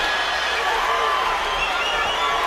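At a boxing arena, a crowd sends up a broad, steady roar of murmuring and cheering during the Crawford vs Beltran fight. A commentator's voice runs over it.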